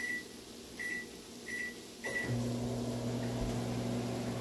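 A microwave oven heating a canned chicken lunch gives a few short keypad beeps, then starts up with a steady close hum that runs alone to the end.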